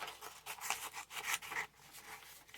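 Paper being fussy cut with scissors, a close, quiet series of short snipping and rustling strokes in an irregular rhythm.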